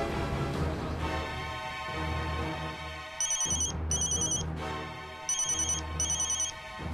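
A telephone rings during an outgoing call, a steady electronic ringback tone with two pairs of bright trilling bursts standing out, no voices.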